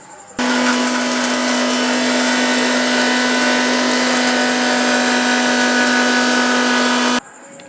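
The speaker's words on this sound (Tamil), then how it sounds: "இப்போ இத்தனையும் போட்டு நம்ம மிக்சியில் நம்ம அரைச்சிப்போம்" A kitchen mixer grinder whirs loudly and steadily for about seven seconds as it grinds dried chillies, fennel seeds and garlic, starting and stopping abruptly with a constant motor hum.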